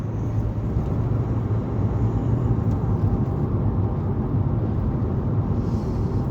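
Road roar from tyres and a low engine induction hum of a Skoda while driving, a steady, dense rumble heard from inside the car, continuous and without talk.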